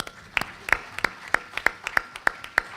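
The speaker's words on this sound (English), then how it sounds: "Let's give her a round of applause" At a school board meeting, a few scattered people clap slowly and unevenly for a congratulated student, sharp individual claps rather than full applause, fairly close in a quiet room.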